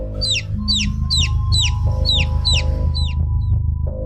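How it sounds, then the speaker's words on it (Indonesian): Chicken clucking close by near a tree, a rapid run of about seven sharp repeated calls over a steady low background hum. "Pak Tono mendengar suara ayam yang sumbernya itu dekat sekali dengan pohon"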